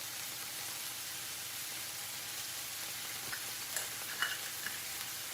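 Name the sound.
garlic and spices frying in a pan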